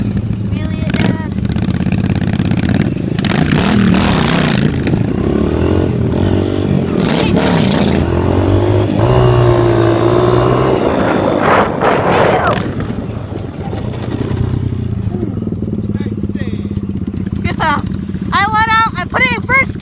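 A trail motorcycle engine roars and revs loudly and close, rising and falling, with people talking over it.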